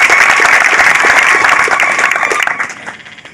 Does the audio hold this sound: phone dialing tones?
no